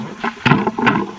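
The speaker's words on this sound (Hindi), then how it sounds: "एक चीज़ और है टॉनी इस टैंक में, देख पाइप को देख कैसे मोड़ा हुआ है, इसमें से पानी पास होगा।" Water rushes through a bent pipe into a storage tank in a Himalayan jungle, a short, loud gurgling surge with uneven splashy pulses and no voices.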